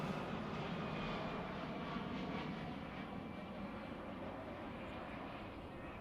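An airplane passing overhead during an outdoor mayoral press briefing, a faint, continuous engine roar that holds steady for several seconds and slowly fades, with no one speaking.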